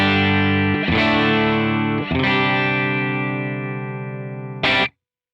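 An electric guitar played through an IK Multimedia TONE X tone model captured from a Bad Cat amplifier strikes three overdriven chords roughly a second apart, each ringing and decaying, then a short stab before silence, with no voices.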